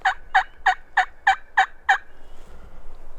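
A wild turkey gobbles in answer to an aluminum call, a rapid series of seven rattling gobble notes over about two seconds, clear and fairly loud outdoors, trailing off into quiet with no voices.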